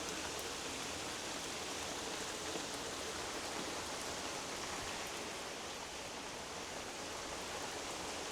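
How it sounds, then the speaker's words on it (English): Steady rain falling in Japan on a July evening, a dense, even hiss of drops that stays constant and close throughout, with no voices. "I was just bringing you guys the rainy ambiance."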